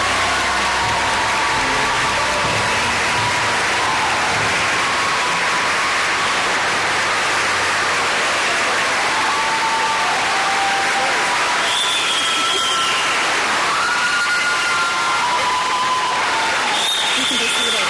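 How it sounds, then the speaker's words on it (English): Sustained audience applause for a graduating EMS class at a December 2017 ceremony, a dense steady wash of clapping with a few voices and faint cheers rising toward the end. "Can we give them a round of applause?"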